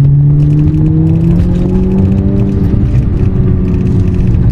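A car with a manual gearbox, dropped into second at about 3,000 rpm, accelerates at full throttle to overtake on the highway. The engine drone rises steadily in pitch as it pulls hard, loud and continuous from the cabin.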